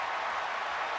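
Large football stadium crowd at Kinnick Stadium in Iowa during a Wisconsin game, a steady broad roar of many voices, dense and unbroken for about a second.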